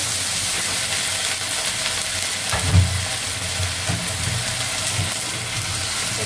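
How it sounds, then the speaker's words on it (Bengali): Ginger-garlic paste and spices frying in a pan with potato and pointed gourd, a steady close sizzle with a brief clatter partway through. "এখন মশলা দিব।"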